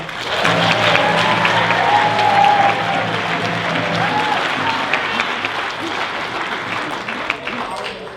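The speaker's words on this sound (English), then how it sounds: "one more big round of applause for our singers here" A crowd at a Ute powwow applauds the singers, with sustained, full clapping throughout that swells in the first few seconds and tapers gradually near the end, with a faint voice mixed in.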